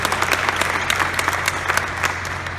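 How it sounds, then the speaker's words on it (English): Applause for the Sacramento Republic FC team players after a 4-0 win rings out at a stadium press conference, a steady wash of clapping from a crowd with sharper individual claps rising above it throughout. "Let's give them a big round of applause for all our team players"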